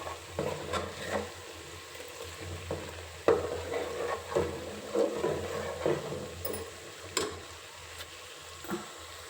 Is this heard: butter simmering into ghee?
yes